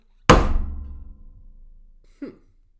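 A hammer strikes a lashed wooden triangle once with a loud, sharp thunk that rings and decays for over a second, followed by a smaller, softer knock.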